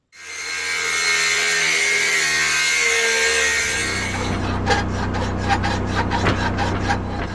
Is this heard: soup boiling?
no